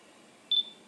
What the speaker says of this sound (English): press the shutter button halfway